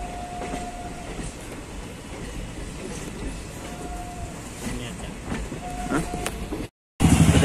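Passenger train running on the rails on the outskirts of Bhagalpur, a steady rumbling roll with rattling wagons and brief high squeals, fairly loud and continuous throughout, cut by a short gap of silence near the end.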